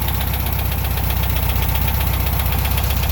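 A 1969 VW Super Beetle air-cooled engine idles steadily with a rapid, even low pulsing throb and a mechanical clatter, close and continuous, as the RPM is brought down slightly.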